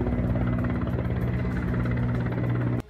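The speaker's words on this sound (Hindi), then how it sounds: "हेलीकॉप्टर की मदद से आग पर काबू पाने के लिए कई राउंड पानी की बौछार की गई" A helicopter drops water on a large building fire in Rajasthan, its steady droning engine hum loud and continuous with a throbbing rotor pulse, cutting off abruptly at the end.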